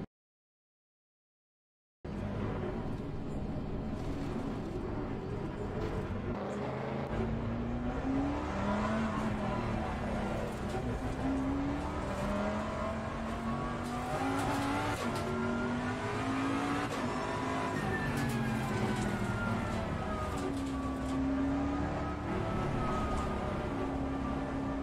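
A race car engine in the video game Assetto Corsa Competizione, revving up and down through the gears with rising and falling pitch sweeps, loud and continuous after a brief silence at the start.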